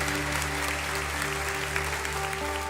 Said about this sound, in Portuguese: Você pode aplaudir esse Jesus que está aqui hoje.